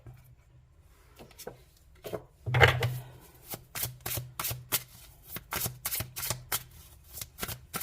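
Tarot cards being shuffled for a card reading, a string of quick papery riffles and flicks that grows busier and more rapid partway through, close and fairly soft, with no talking.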